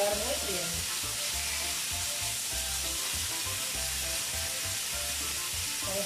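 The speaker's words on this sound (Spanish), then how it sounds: "vamos a ir poniendo los trocitos de solomillo salpimentados, para que se doren de lado en lado" Salted and peppered pork tenderloin pieces browning in a pan over high heat, a loud, steady hissing sizzle with a low rhythmic thumping underneath, close and continuous.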